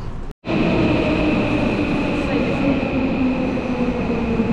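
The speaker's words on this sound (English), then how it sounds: "Wow, these trains are busy." Crowded Tokyo subway train in motion, a continuous rumbling ride with steady wheel and motor hum filling the carriage after a brief cut at the start.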